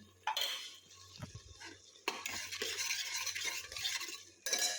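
A vegetable being stirred and sautéed in a pan with turmeric and ground masala, a spatula scraping and clinking against the pan in short bursts with soft sizzling between strokes, close and moderately quiet.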